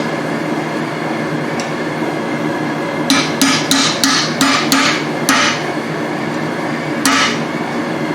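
A hammer strikes a steel chisel while forging blacksmith tongs, a quick run of about seven sharp ringing blows followed by a single later strike over a low background hum.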